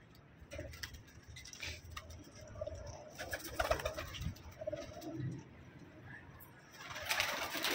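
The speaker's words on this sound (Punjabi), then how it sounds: "ਵੇਖ ਸਕਦੇ ਹੋ ਮਾਸ਼ਾਅੱਲਾ ਕਬੂਤਰ ਸਾਰੇ ਤੁਹਾਡੇ ਸਾਹਮਣੇ।" Pigeons coo in a loft, soft low calls repeating irregularly amid rustling and faint background noise, fairly quiet overall.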